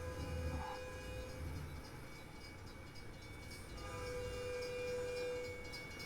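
A train in the video game American Truck Simulator rumbles past a level crossing in Iowa, with a steady rolling drone and sustained horn tones fading in and out, alone without talk.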